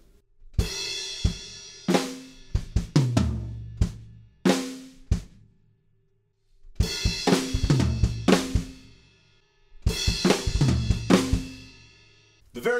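Slow, deliberate drum fill, played in two separated bursts of tom and snare strokes with cymbal wash, each run building in density before stopping, close and loud with no talking.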